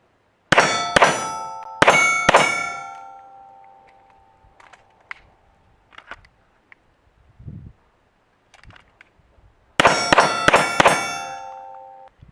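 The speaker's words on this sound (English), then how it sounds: "What you should have heard there was the first set of shots, I went bop, bop, move, bop, bop" Pistol fired in quick double taps at steel targets during a speed drill: two sharp pairs of ringing clangs, then near-silence with faint small knocks, then another rapid burst of bright metallic pings, loud and close with no talking.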